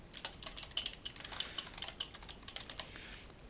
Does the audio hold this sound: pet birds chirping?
no